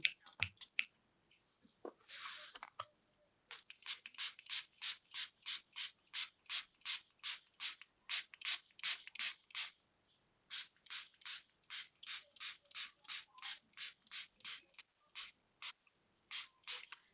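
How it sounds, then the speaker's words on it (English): Rapid rhythmic bursts of a spray bottle misting water onto watercolor paper, dozens of short hissing squirts in quick runs with brief pauses, close and fairly loud, no talking. "Now I'm spraying it down."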